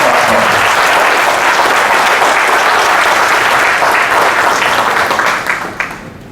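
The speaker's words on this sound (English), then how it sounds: "Can we have a huge round of applause for him?" A large audience gives loud, dense applause to welcome a guest speaker at a leadership series event, sustained throughout before tapering off near the end.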